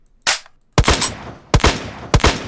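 Scar rifle fire in the Crafting Dead Minecraft mod: a single loud shot, then three rapid bursts of close, punchy gunfire with brief gaps between them, with no talk.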